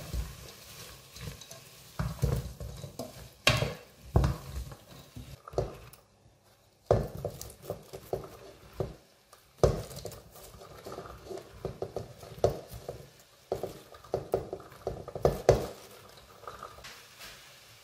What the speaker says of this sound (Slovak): A do takto pripraveného základu ideme postupne pridávať kapustu. Premiešame.